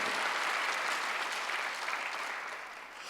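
A church congregation claps during a Sunday worship service. The clapping is dense and moderately loud, then softens slightly toward the end.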